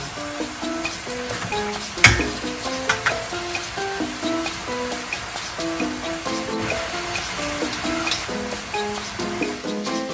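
Corn tortilla taco shells frying in hot oil give a steady, close crackling sizzle for the whole stretch, with a few sharper pops, under a soft melodic background tune.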